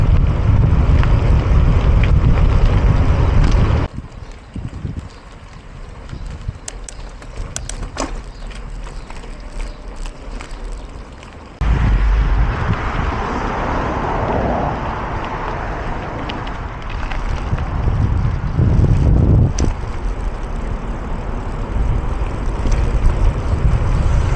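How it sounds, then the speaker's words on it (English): Wind buffeting a microphone while cycling from Bristol to Newport, Wales on a flat road, loud low roaring gusts that drop away briefly in the middle and return stronger, with no talking. "I think I'm going to be cycling into the wind"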